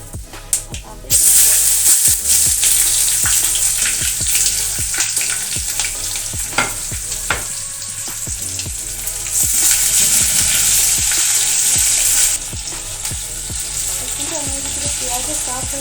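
Onions sizzle and fry in a hot pan for a prawn potato curry, a loud continuous hiss with intermittent stirring scrapes and clinks throughout, no talking.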